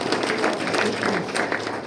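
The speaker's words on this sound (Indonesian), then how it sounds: "Berikan tepuk tangan buat Tuhan kita." A church congregation claps together in steady, dense applause that runs from start to finish without pause.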